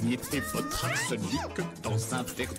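A cartoon kitten in the Poppy Playtime game meows in a few rising, squeaky cries, with a voice talking over and between them.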